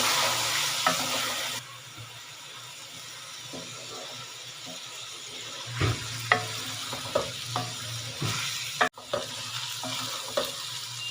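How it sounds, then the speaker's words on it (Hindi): Chicken frying in a pan while being stirred, with the metal spoon scraping and clinking in bursts over a soft, steady sizzle and an occasional louder knock; no talking. "चिकन को फ्राई करने के दौरान हम इसमें आधा कप पानी शामिल करेंगे"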